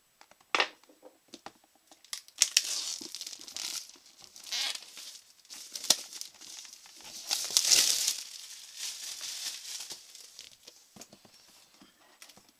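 Plastic packaging crinkling and tearing as a Kingdom Death Monster board game board is carefully unwrapped, with irregular close rustles and crackles throughout.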